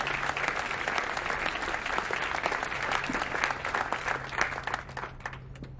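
Audience applause at a commemoration ceremony for the abolition of slavery, a dense, steady clapping from a crowd that carries on evenly throughout and thins slightly at the end.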